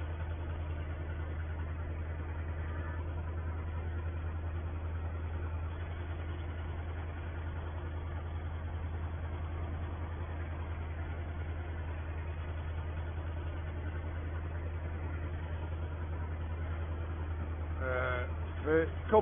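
A 1950 farm tractor, used for drilling barley, runs steadily with a low continuous engine drone throughout, fairly even and unbroken, with a brief rise near the end.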